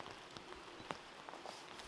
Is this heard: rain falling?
yes